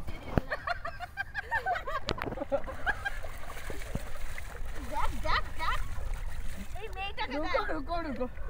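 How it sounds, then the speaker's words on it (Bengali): People splash in the Rupnarayan River, with repeated bursts of choppy water sounds under near, steady talk and laughter from several voices. "আর এখানে আমি জলের মধ্যে ভেসে থাকার চেষ্টা করছি"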